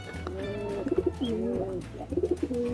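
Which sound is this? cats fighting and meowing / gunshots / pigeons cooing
pigeons cooing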